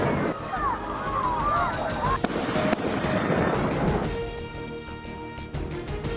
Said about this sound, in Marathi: दहशतवादी पर्यटकांवर गोळीबार करतानाचा लाईव्ह व्हिडिओ समोर